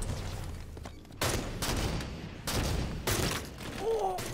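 Gunfire in the Halo 5 video game, heavy bursts of shots arriving in several loud waves with a brief tonal whine near the end, dense and close.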